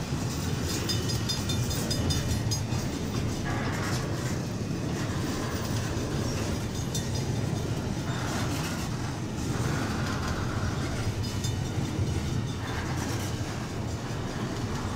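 Canadian National freight train 9638 rolls through Effingham, Illinois, with a steady, loud rumble and continuous clickety-clack of wheels over rail joints, faint squeals rising now and then, alone without voices.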